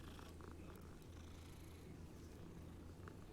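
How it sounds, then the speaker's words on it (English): A cat in the video game Hogwarts Legacy purrs in a steady, soft, low rhythmic rumble, close and continuous for a few seconds with no talking. "That's some purring pussy right there."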